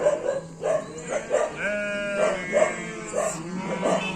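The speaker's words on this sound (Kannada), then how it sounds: "ಕೆಂಚ ಯಾರೋ ಬೇರೆ ಕುರಿ ಬರೋಕ್ಕಿಲ್ಲ" Sheep bleat repeatedly on a farm, several loud, wavering cries following one another at a steady pace, close by, with a few voices murmuring faintly in the background.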